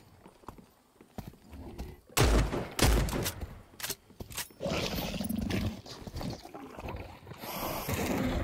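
Shotgun blasts ring out in a gunfight in the Cycle Frontier video game, with several loud, close bursts in quick succession mixed with clattering game noise.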